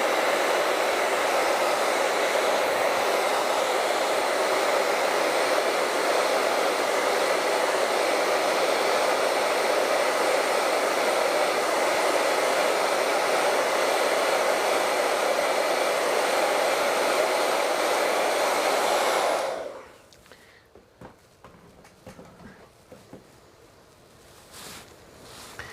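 Hair dryer blowing steadily on a wet painting, a loud continuous roaring whoosh close by that runs for about twenty seconds, then cuts off abruptly to faint rustling.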